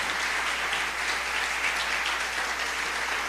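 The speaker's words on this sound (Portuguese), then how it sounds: "Dá uma salva de palmas para o nosso Deus." A church congregation claps in a sustained, dense round of applause at a worship service, loud and steady throughout with no voices on top.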